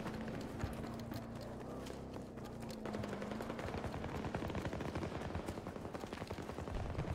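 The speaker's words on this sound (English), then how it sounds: "I don't know where all these shooties are coming from" Dense, continuous gunfire in the game Battlefield 2042, rapid crackling shots and automatic bursts layered together, with a low engine-like hum underneath.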